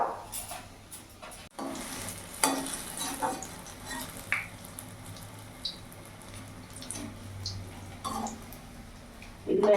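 Cauliflower pakoras in besan batter frying in hot oil, a steady soft sizzle with occasional stirring clatter and clinks of utensils, fairly quiet and close, with no talking.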